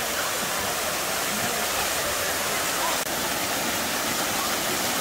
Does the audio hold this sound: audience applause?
no